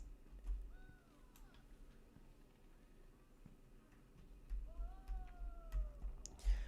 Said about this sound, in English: I love how they purr.